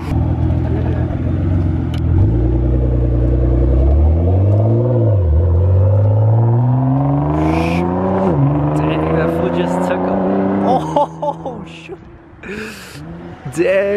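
A Nissan GT-R cold starting at a rainy car meet: a loud, close engine roar that flares up and then settles into a steady rumbling idle with rising and falling revs, and people talking nearby.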